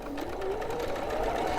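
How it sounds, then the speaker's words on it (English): A sewing machine stitches a mitered quilt border along a marked line, humming steadily at close range with a fast, even needle rattle and a slight rise in pitch as it speeds up; no voices. "and then I'm going to sew on that line"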